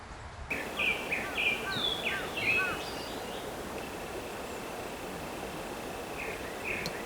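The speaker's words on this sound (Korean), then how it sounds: "아, 새소리가 진짜 죽여준다 여기." Birds chirp and trill outdoors at a freshwater fishing spot, a series of short bright calls early on, then sparser calls over a steady ambient hiss.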